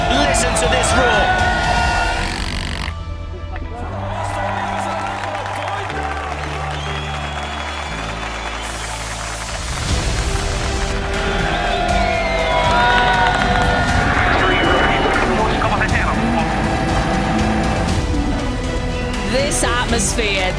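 Spectators at a rally stage cheer and roar as cars run through. Loud crowd noise swells and falls across the whole stretch, mixed with scattered clapping and shouts, while commentators talk over it.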